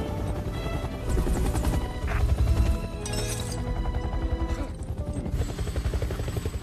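A helicopter in the 1993 film Cliffhanger, with rotor thumping running through a dense, loud movie soundtrack mixed with crashes and metallic clinks.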